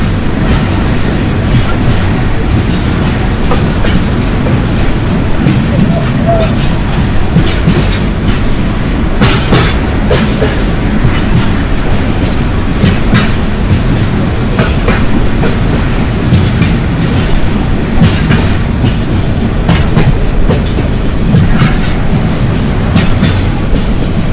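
A passenger train running at night from Dhaka toward Natore, Bangladesh, gives a loud, continuous rumble with rhythmic clickety-clack from the rails and occasional squeaks, heard from on board with no talking.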